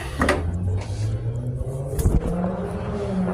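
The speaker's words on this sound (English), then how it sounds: "Listen to the cars." Cars passing by outside a family member's house, a steady low road rumble with one closer vehicle surging past midway, heard alone without talk.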